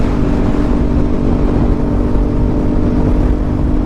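A 2018 Kawasaki Ninja 400 motorcycle engine holds a steady, loud, close droning hum throughout with no talking.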